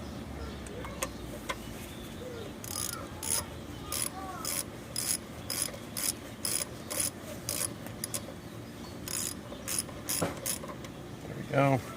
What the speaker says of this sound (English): Take the bolt, and just as our point of reference, it's a 14mm socket. So I'm going to go ahead and just put that to tighten.